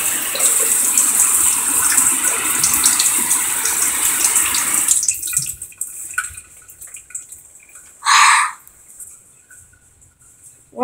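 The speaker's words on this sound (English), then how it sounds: "Yep, the shower still works." A shower runs in a bathroom in a zombie survival video game, a steady loud hiss that cuts off midway, followed by a brief burst of noise and quiet.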